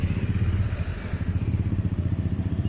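Motorcycle engine idling close by, a steady low rumble with a rapid pulsing beat throughout, no talk over it.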